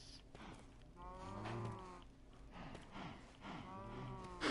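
Cows moo in a video game, several drawn-out, wavering lows following one another at moderate volume against a quiet background, with no talk over them.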